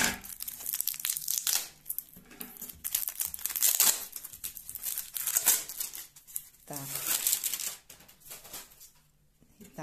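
Plastic film wrapped around a rolled painting from a parcel is torn and crumpled open, producing close, irregular crinkling and ripping bursts with pauses, while a person talks intermittently.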